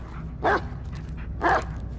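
In the Blair Witch video game, a dog gives two distinct barks about a second apart, sharp and fairly close, over a low ambient background.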